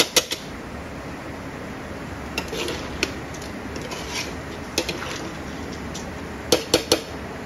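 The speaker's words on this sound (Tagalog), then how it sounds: "Igigisa ko yung malagkit kasama yung mga karne." Glutinous rice and meat being sautéed in a pot for arroz caldo, with sharp metallic scrapes and clinks of a utensil against the pot scattered over a soft, steady sizzle, close and fairly quiet.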